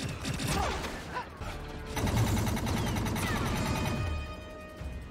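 Blaster-style gunfire from a Mandalorian episode, rapid bursts of shots and mechanical clatter layered over a dense action-scene mix, loud and continuous.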